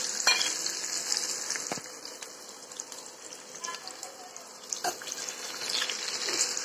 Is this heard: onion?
yes